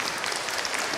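Audience applause at a Catholic Holy Spirit convention lecture given by a priest, a dense, steady clapping filling the whole moment without any voices.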